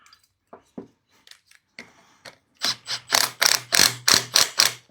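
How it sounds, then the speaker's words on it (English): Metal parts clink and clatter close up as a carriage bolt is slipped through and a pulley refitted on a Husqvarna riding mower deck, a few sparse taps followed by a rapid series of sharp, loud metallic knocks. "Slip our carriage bolt through. And reinstall our pulley."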